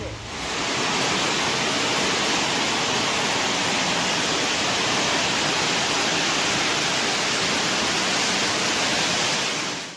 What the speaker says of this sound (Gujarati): વાદળ ફાટતા નદીઓએ રૌદ્ર સ્વરૂપ ધારણ કર્યું